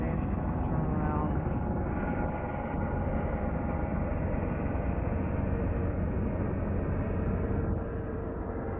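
Helicopters flying overhead, a continuous loud rumbling engine drone that holds steady throughout, with faint voices in the background.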